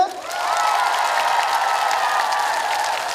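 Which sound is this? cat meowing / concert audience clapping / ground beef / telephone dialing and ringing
concert audience clapping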